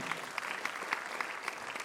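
Audience clapping at a church talk, a short burst of fairly faint, scattered applause heard from a distance.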